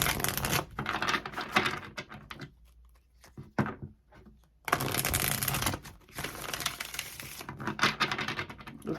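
A tarot deck being taken out and handled, close crisp bursts of shuffling and flicking cards with a quiet pause in the middle, then more rapid riffling.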